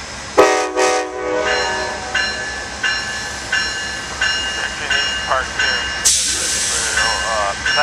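Amtrak's northbound Carolinian passes with Phase III Heritage Unit 145 leading, opening with a loud horn blast, then a steady rhythmic clatter of wheels over rail joints and a brief hiss near the end.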